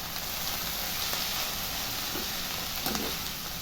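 Thin potato slices coated in turmeric, chili powder and salt sizzle softly in a pan while being stirred, a faint steady hiss with occasional scraping.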